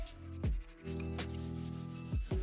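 Sandpaper at P120 scuffs the finish off the solid wood legs of a classic mid-century modern coffee table, giving a steady close rubbing drone broken by a few sharp louder strokes.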